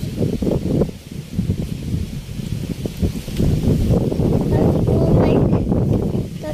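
Strong wind blows across a farm, buffeting the microphone with a low rumble that rises and falls in gusts.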